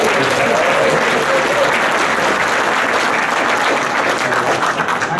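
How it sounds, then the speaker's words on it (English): Loud, dense applause from a seated audience at a radio industry event about offshore radio, a continuous wash of many hands clapping that holds steady and fades slightly near the end, with no voices. "Thank you very much for the applause."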